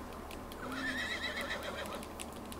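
A horse in the video game Red Dead Redemption 2 gives one rising, wavering whinny lasting about a second, fairly close over a quiet background, with faint clip-clop around it.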